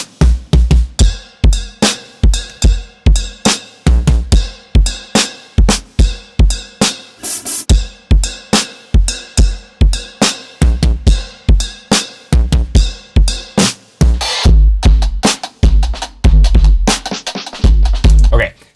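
A mixed drum kit with processing plugins engaged, punchy kick and snare hits in a steady driving rhythm with bright cymbals, loud and close throughout, no talking.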